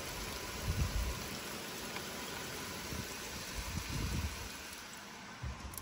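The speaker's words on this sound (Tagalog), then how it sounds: "Ang lakas-lakas ng ulan" Heavy rain falls steadily in broadband wash, with occasional low rumbles like a passing car; no one speaks.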